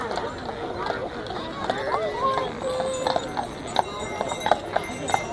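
Horse hooves clip-clop at a steady rhythm as a horse pulls a carriage on a ride at the Billy Graham Library, close and distinct, with quiet talk and chirpy background sounds around them.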